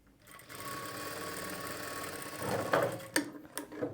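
A sewing machine stitching a plain blouse whirs steadily and loudly at close range, then slows into a few separate clunks and stops, with no voices.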